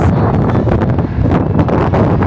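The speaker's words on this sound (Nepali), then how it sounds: "क्या शीतल हावा लाग्यो" Cool wind gusts across Ueno Park in Tokyo in August, buffeting the microphone with a loud, steady rumble and rustle throughout, no voices.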